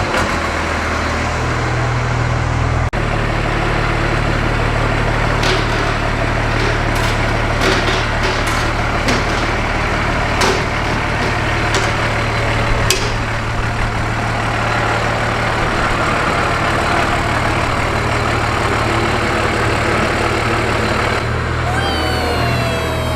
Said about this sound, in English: is that a Cummins in there?